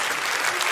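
An audience at a church service breaks into dense, loud applause, a continuous wash of many hands clapping at once, brief and without speech.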